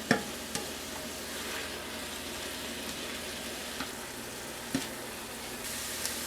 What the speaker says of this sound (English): it says to cook and stir over medium heat for about 2 minutes